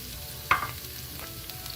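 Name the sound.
turmeric, cumin, coriander and chili powder frying in a pan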